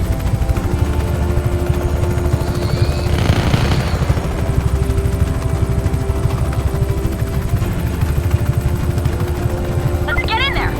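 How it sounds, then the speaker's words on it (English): A continuous rapid chopping drone of helicopter rotors from the video game Just Cause 3 fills the scene, loud and close, with bursts of gunfire-like crackle and voices underneath. "And now helicopters!"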